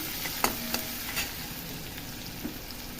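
Tomatoes go into a hot frying pan with a steady hiss of sizzling oil, broken by a few sharp clinks of a utensil against the pan.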